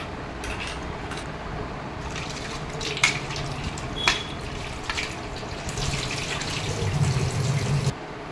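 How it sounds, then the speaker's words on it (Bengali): Fish being washed under running tap water in a kitchen sink, a steady close splash and trickle with a few sharper clinks and a rising flow near the end. "প্রথমে মাছগুলো আমি ধুয়ে নেব।"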